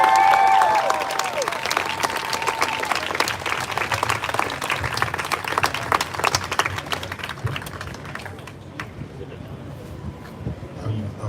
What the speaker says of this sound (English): please, everyone, give a really, really, really big round of applause for Frank Chapman